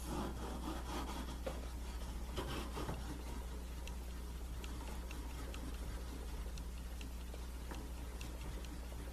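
Steel chisel rubbed back and forth on a sharpening stone, making a quiet, continuous gritty scraping with repeated strokes over a low steady hum.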